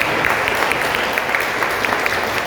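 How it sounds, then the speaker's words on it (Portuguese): Congregation applauding in a church service for Hanukkah, steady loud clapping from a crowd, dense and continuous throughout. "E uma aplauso bem forte ao Senhor."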